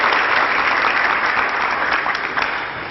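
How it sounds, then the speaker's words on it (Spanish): An audience at a church pastoral talk applauds two participants, dense sustained clapping that is loud at first and slowly tapers off toward the end. "le damos ofrenda de palmas un poco más calurosas a nuestros dos participantes"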